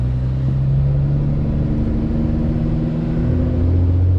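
Inside a 2012 Nissan GT-R on the move, the engine holds a continuous, low, humming rumble with a steady tonal drone and a slight rise in pitch toward the end.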